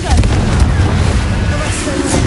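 Confringo explosion spell in the Hogwarts Legacy video game, a dense, loud rumbling blast filling the moment with booming, crackling noise amid other combat sounds and a voice.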